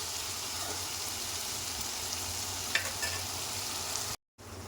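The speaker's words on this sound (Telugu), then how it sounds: "ఇప్పుడు స్టవ్ మీడియంలో పెట్టి టమాటా ఉడికించుకున్నామండి" Tomatoes with salt cooking in a pan over a medium stove flame make a steady, soft frying sizzle throughout, with a faint clink near the middle and a brief dropout near the end.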